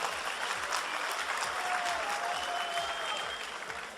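Sustained applause from a crowd at a League of Legends cosplay contest, steady clapping throughout with a faint tone underneath.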